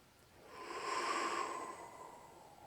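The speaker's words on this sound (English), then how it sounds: "Breathe in." A slow, deep in-breath during a tai chi breathing exercise swells gradually to a peak and then fades, close and alone with no talking.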